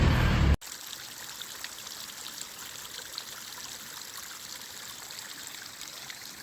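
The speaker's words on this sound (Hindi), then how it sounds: "तो पहाड़ों में ये स्रोत है जलधारा, ये जगह जगह से पानी निकलता है" A mountain spring in the Uttarakhand hills pours out of the hillside as a constant close rushing trickle of water, steady and unbroken after a brief louder jolt at the start.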